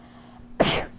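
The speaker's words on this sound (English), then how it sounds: "Third sneeze." A single sharp human sneeze bursts out close and loud after a quiet stretch of low room hum, late at night in a home.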